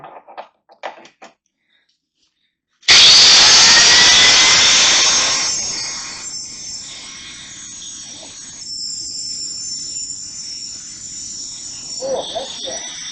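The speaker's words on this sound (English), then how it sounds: "it is supposedly supposed to be able to cut through anything. Masonry, metal, doesn't matter what it is." An angle grinder with an indestructible cutting disc, sold to cut masonry, metal and any other material, gives a sudden loud, harsh, high-pitched screech. The noise then settles into a quieter grinding whine, with brief voices at the start and end.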